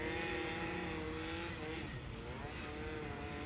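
A car accelerating hard in a drag race beside the Polderbaan runway at Schiphol, a steady roaring engine drone with a continuous buzzing texture, fairly loud and sustained throughout.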